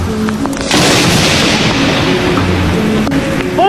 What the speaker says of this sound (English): Lightning on a swimming pool.